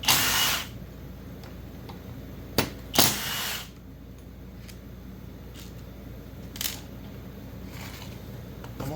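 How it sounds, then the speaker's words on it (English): Power tool removing bolts from a chainsaw, heard as a few short, sharp bursts of whirring and clicks over quiet background hum, close by, with no talking. "I'm gonna take these two bolts out right here."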